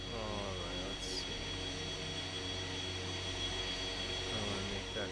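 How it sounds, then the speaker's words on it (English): A jet engine spins up in a flight simulator game, a steady droning whine of turbine noise that holds constant and fairly loud, with a brief higher swish early on. "Let's go ahead and start up our left engine here."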